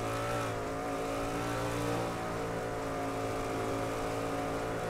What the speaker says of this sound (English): First car making his way to the speedway